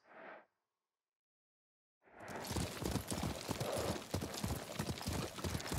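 Horse hooves clip-clop in a quick, steady rhythm after a brief sound and a moment of silence, fairly close and continuous, in the video game Ghost of Tsushima.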